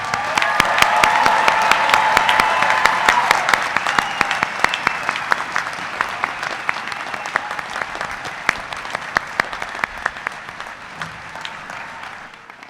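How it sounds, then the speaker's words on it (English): Graduation ceremony audience giving a long round of applause for the class of 2011, a loud sustained wash of clapping with many crisp individual claps that gradually thins and fades toward the end. "I would like to invite one more round of applause for the class of 2011."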